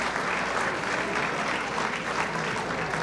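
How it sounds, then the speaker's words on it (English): Sustained, dense applause from a large audience fills a ballroom gala celebrating Greek heritage at the Ziegfeld Ballroom, steady and even throughout without a break. "A round of applause for Bumbulina."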